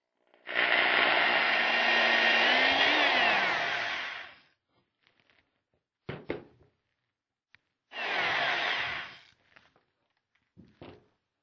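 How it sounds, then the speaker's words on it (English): A power drill with a 5/16 or 5/32 inch bit bores through both layers of a rocket tube. It gives one long, whining burst of about four seconds, then a shorter second burst, with quiet handling knocks between them. "we'll just drill through both layers of the tube"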